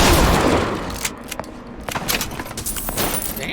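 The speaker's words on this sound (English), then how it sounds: "I'm gonna have to actually shoot our way out." Gunfire in BioShock Infinite: a dense burst of shots at the start, then sharp reports scattered at irregular intervals, with a rattling, jangly edge throughout.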